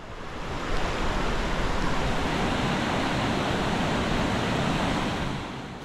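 A mountain valley stream rushes steadily nearby, a dense, continuous wash of flowing water that swells in slightly and holds at an even level.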